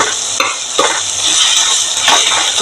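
Tomatoes softening in a hot pan for a Kerala fish curry, with a loud, close sizzle and repeated scraping strokes of a spoon stirring them.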